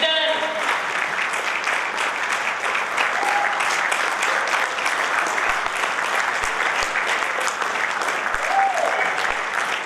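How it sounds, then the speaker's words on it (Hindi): Audience at an indoor event in Indore gives a loud, sustained round of applause welcoming a speaker, steady dense clapping throughout with faint voices underneath. "जोरदार तालियों के साथ स्वागत करेंगे"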